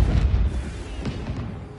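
A deep explosion in the Spider-Man 2 video game, a heavy low boom that opens loudly and rolls off into a rumbling tail, with a couple of softer thuds following.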